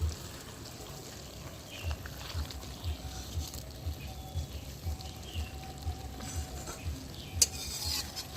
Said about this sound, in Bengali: কাঁটা দিয়ে তরকারিটা ভালো করে একটু ঘেটে নিচ্ছি